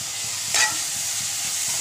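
A pan stir-frying with turmeric and asafoetida gives a steady soft sizzle with a brief, sharper scrape or hiss of stirring partway through, close and quiet, with no talk.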